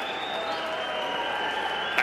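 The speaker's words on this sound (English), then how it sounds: "let's have a round of applause for these two warriors" Crowd applause and cheering at a bare knuckle fight event in Albuquerque, a fairly faint, steady spread of clapping from a large arena audience with a tonal hum running beneath.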